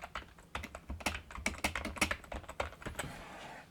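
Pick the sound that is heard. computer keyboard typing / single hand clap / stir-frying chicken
computer keyboard typing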